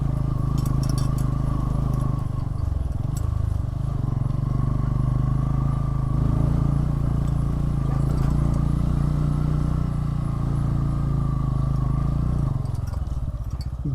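A motorbike rumbles along a hill road near Panchakot in Baglung, Nepal, its engine a steady low drone throughout with wind noise, close and continuous, with no talking.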